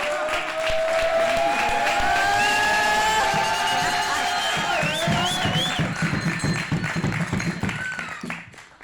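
Audience applause after a comedy sketch, a dense clapping crowd heard loud and near, fading toward the end with scattered claps.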